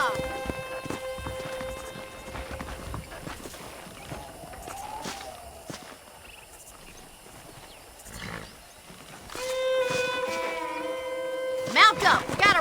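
Horse hoofbeats clop in Red Dead Redemption, the video game, moving at a steady walking rhythm at moderate distance, mixed with ambient game sounds and a tonal musical score, with speech around them.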